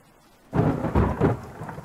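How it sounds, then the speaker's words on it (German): Rain and a deep rolling thunder rumble in the survival video game The Forest start abruptly and swell in waves, loud and close with no voices. "Okay, es regnet."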